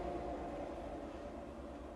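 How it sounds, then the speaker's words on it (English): A train rolling past a house, a steady low rumble with a droning mechanical tone that holds at an even level throughout, heard from indoors with no speech. "there's a train going past my house"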